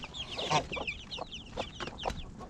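Many chicks peep in a busy chorus while hens give short clucks nearby, a steady outdoor barnyard chatter in a yard with no one speaking.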